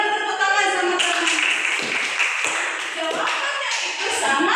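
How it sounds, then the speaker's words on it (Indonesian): A classroom of students claps for a classmate, a dense burst of hand claps starting about a second in and continuing steadily throughout, with some voices mixed in. "Berikan tepuk tangan sama teman."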